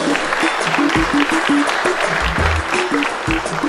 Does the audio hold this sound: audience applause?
yes